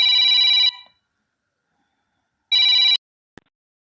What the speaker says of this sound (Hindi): फिर से फ़ोन आ गया